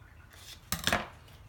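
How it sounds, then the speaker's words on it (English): Scissors snip a single short slit into a paper petal, one quick crisp cut close by, with quiet room hush before and after. "And cut a slit."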